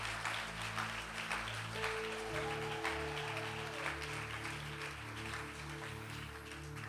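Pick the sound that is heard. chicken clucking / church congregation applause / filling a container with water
church congregation applause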